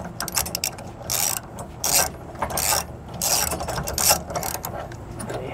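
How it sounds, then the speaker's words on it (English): A 15/16 wrench ratchets to tighten a bolt on a shock-absorbing towing kit with sway control, producing close repeated clicking bursts in an uneven rhythm, with no talking. "Now you may need a 15/16 wrench just to get this tightened up."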